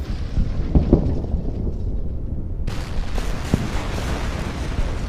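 Battleship gunfire in a World War II strategy game set on Guam, heavy booming blasts rolling into a long low rumble, loud and close, with a sudden shift in the sound partway through and no voices.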